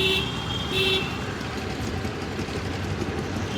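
Crowded market road in Kalyan packed with auto-rickshaws, with a steady din of idling engines and traffic close by and two short horn toots near the start.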